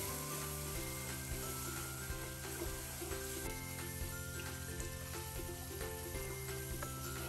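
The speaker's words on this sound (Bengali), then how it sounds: "অল্প একটু মরিচের গুঁড়ো, অল্প একটু হলুদের গুঁড়ো, এটা দিয়ে আমি ভালো মতো করে মশলাটা একটু ভালো মতো করে কষাবো" Chilli and turmeric powder sizzle as masala is fried in a pan for a fish curry with bitter gourd, a steady close frying hiss with faint scraping, no talk.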